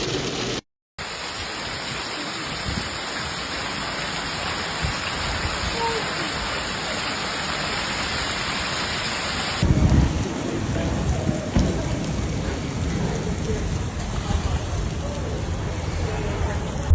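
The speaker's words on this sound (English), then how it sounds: "Large hail pelted parts of the Western Downs and Maranoa region, with 7-centimetre hail reported north of Injune." Heavy rain and hail from a severe storm in Queensland's Western Downs and Maranoa region make a dense, steady roar of pelting drops and ice, loud and continuous throughout, with a brief cut near the start.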